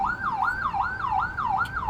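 An ambulance siren wails in São Paulo traffic, a loud, close, rapidly repeating up-and-down yelp that cycles evenly about four times, with road rumble underneath.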